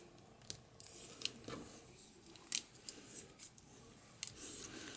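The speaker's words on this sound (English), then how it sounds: "So just use scissors to cut that." Scissors snip through adhesive tape in close, crisp cuts with light rustling and handling noises between a few sharper clicks, in a quiet room crafting setting.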